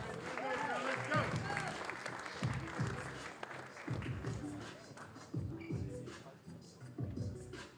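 Crowd applause at a boxing face-off and weigh-in event, a sustained wash of clapping heard under an announcer's amplified voice throughout.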